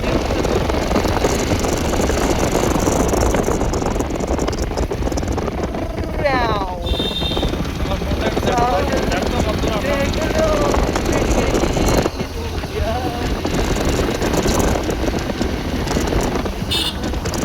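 A vehicle engine drones steadily on a night ride through the hills, a loud, constant rumble mixed with wind buffeting, while voices talk over it.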